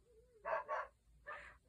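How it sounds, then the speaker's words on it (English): Dogs bark from just behind a closed door: three muffled, fairly faint barks, two close together and then one after a short pause, in an otherwise quiet room. "I think they bark because they hear my voice."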